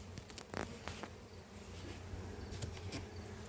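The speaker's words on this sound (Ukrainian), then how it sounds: "Сонце тільки зайшло, це бджоли тікають" A steady, low honeybee buzz hums throughout just after sunset, with a few louder passes as bees fly close by, outdoors and without voices.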